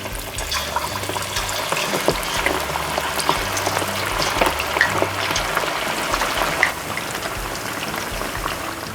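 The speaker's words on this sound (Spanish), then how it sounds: "Ya tenemos el aceite bien caliente. Vamos a colocar las alitas de pollo." Chicken wings dropped into very hot oil crackle and pop in a steady, dense sizzle, close and fairly loud, with scattered sharp spits throughout and no talking.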